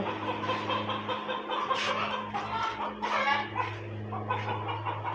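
Chickens clucking and squawking nearby in short agitated bursts at a poultry seller in Saudi Arabia, with a steady low hum underneath and faint background noise.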